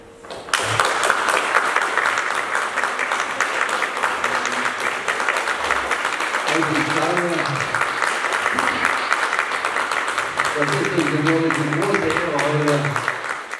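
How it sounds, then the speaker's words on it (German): Audience applause at the start of an event at the Lindenhof in Niederfrohna, sustained steady clapping from a crowd, loud and dense, with voices heard faintly beneath. "Viel Beifall schon zu Beginn der Veranstaltung am 30. September in Niederfronas Lindenhof"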